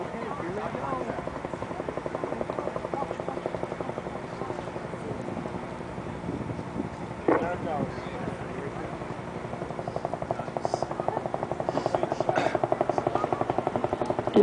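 The twin solid rocket boosters of Space Shuttle Endeavour roar during the STS-130 launch, a steady rumbling wall of noise heard from a distance that swells slightly toward the end while a commentator's voice talks over it.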